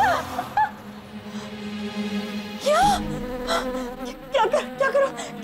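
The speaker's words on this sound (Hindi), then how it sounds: "मधुमक्खी।" Honeybees buzzing close by, a steady whining drone broken by a few brief louder swoops and faint clicks, with no talking.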